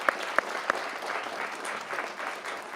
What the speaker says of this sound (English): collective round of applause for everyone that won our essays